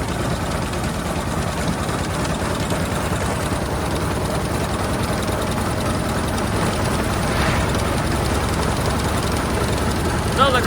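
A 100-year-old car's engine roars steadily and loud as it accelerates down a quarter-mile drag strip in second gear, a continuous rumble with wind and road noise throughout.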